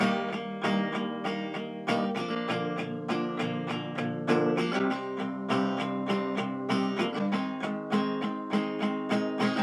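A guitar strums a steady pattern of down strums with a quick down-up at the end of each bar, repeating evenly at a moderate pace with no voices over it.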